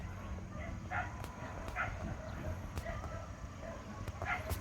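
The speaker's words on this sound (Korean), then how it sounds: "개 짖는 소리가 장난이 아니야." A dog barks repeatedly in the distance outdoors, short yaps spaced about a second apart over a steady background hum, fairly faint rather than close.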